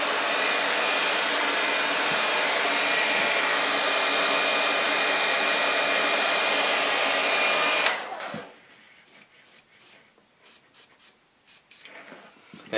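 An airbrush sprays Pledge Floor Care Polish as a sealing coat over watercolor paint on a custom bust, a steady loud hiss for about eight seconds, then short on-off bursts of misting.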